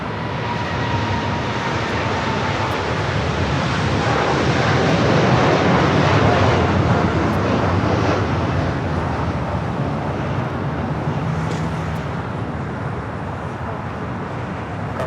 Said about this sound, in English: It's a 747 to 8, rolling down to 25 left.